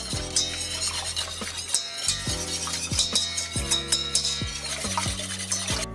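A spoon scrapes and stirs vegan enchilada sauce with broth around a metal saucepan in steady strokes, with a soft bubbling sizzle and low rhythmic thuds underneath.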